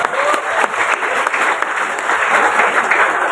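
An audience applauds at an Indonesian event in Cirebon with Bank Indonesia, steady dense clapping from a large crowd that holds throughout, fairly loud and close.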